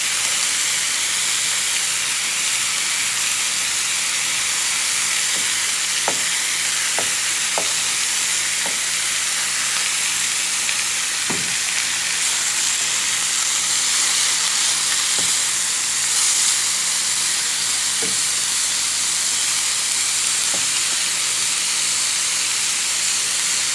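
Pork frying in a pan for pork afritada, a steady bright sizzle and hiss throughout with occasional light clinks of stirring, close and alone.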